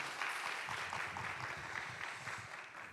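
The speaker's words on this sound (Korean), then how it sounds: "우리 하나님께 영광의 박수하겠습니다." A church youth-service congregation claps together for a few seconds, a steady, fairly faint wash of hand claps with no voices on top.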